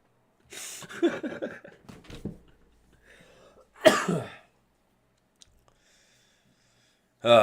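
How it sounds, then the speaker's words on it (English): A person at a podcast microphone speaks briefly, then gives one short, harsh cough up close, followed by quiet pauses and another faint burst at the end. "Trying to keep my cough under control."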